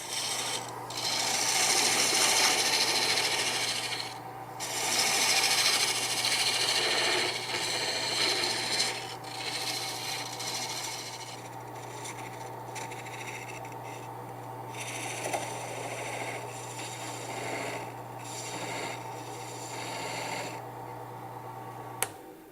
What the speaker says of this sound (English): So let's go to a fingernail gouge.